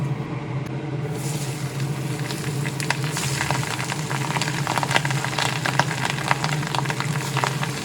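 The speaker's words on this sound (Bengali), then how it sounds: "তেল কড়াইয়ের গায়ে ভালোভাবে লাগিয়ে দিয়ে পাবদা মাছ দিয়ে দেব ভাজার জন্য" Pabda fish frying in hot oil in a wok, giving a loud, dense, continuous sizzle with crackling spatter that surges after the first second and stays steady and close throughout; no voices.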